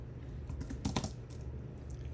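Faint computer keyboard typing during a C# and .NET programming session: soft, irregular key clicks over a steady low background hiss, with no talking.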